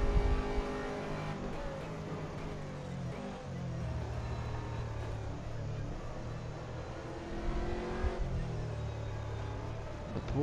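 A Porsche GT3 race car on track at the Paul Ricard circuit, its engine a sustained, close, buzzing drone that dips and climbs with gear changes and throttle.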